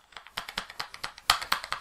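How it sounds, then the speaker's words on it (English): Brisk typing on a laptop keyboard, a close run of sharp key clicks in uneven rhythm, with a couple of louder strokes near the end and no talk. "This thing is a blast to type on. I love typing on this machine."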